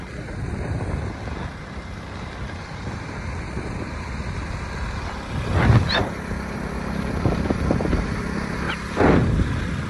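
A car being driven on a road rumbles steadily up close, with wind buffeting the microphone and a couple of brief louder surges as it moves along.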